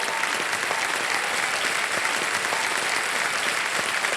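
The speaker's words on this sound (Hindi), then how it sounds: "तालियां बज जाए" Studio audience on the game show Kaun Banega Crorepati applauding, a dense, sustained wash of clapping that stays even and full from start to finish.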